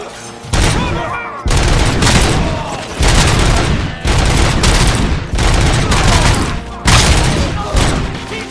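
Loud, sustained bursts of gunfire in a combat firefight, dense volleys that pause briefly every second or so before resuming, with shouting voices mixed into the din.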